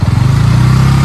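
A motorcycle engine running close by, steady low rumble with a slight rev at the start, loud and continuous.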